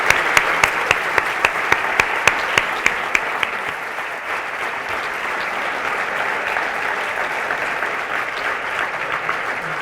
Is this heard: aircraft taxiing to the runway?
no